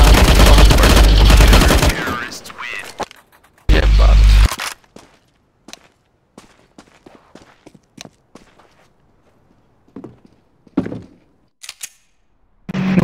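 Counter-Strike: Global Offensive gunfire: dense, loud automatic bursts at the start and again around four seconds, then scattered single shots, footsteps and clicks at lower level, with a final burst at the end.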